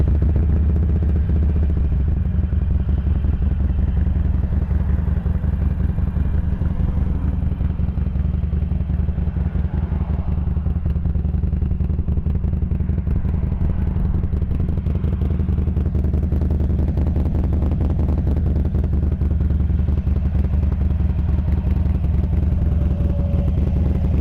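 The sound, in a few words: Harley-Davidson Sportster 883 Iron motorcycle engine running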